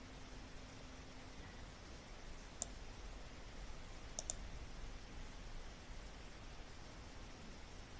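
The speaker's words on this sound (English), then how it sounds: "First we select this chart and right click on this, then click on format chart area, then click on fill" Computer mouse clicking, three or four faint, sharp clicks, two of them in quick succession, over a steady background hiss.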